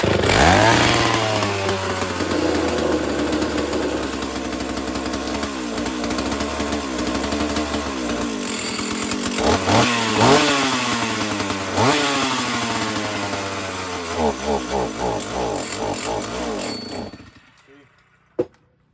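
A Stihl 032 AV chainsaw with a suspected faulty carburetor runs on choke, its engine loud and close, revving up and down unevenly for a long stretch before cutting out near the end.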